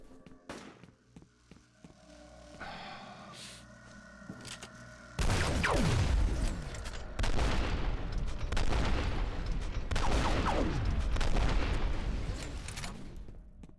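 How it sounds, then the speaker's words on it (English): Loud bursts of rapid gunfire in the video game F.E.A.R., played on high difficulty, erupt after a quieter stretch and repeat in several heavy, echoing volleys with booming impacts. "Heard the gunshot and immediately thought they were here."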